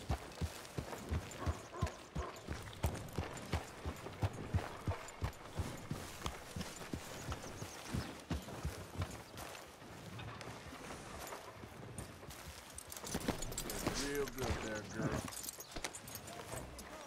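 Horse hooves clip-clop at a steady walking rhythm in the western video game Red Dead Redemption 2, repeated near thuds running through most of the stretch beneath ongoing conversation.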